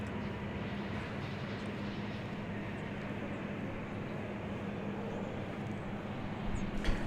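An American Airlines Airbus A321 at DFW airport gives off a steady, broad engine roar that holds at a constant level throughout, with no talking.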